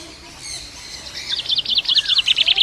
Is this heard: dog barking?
no